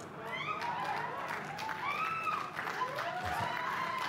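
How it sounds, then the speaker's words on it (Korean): An auction crowd breaks into cheering and applause, a dense sustained roar with rising whoops and shouted voices layered over steady clapping at moderate distance. "사람들 환호성이 터집니다"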